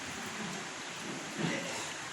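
Steady rain falling outside a church during a sermon, a soft continuous hiss of drops at moderate level, with no speech over it.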